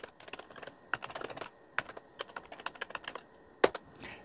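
Linux commands being typed on a computer keyboard, a quick run of close, soft key clicks with a few sharper taps and short pauses, alone and fairly quiet.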